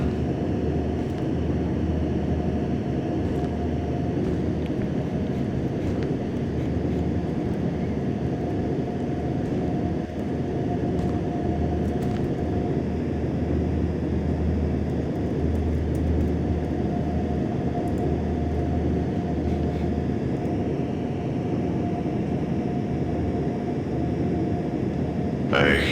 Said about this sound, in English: I can control where this train is headed, you know.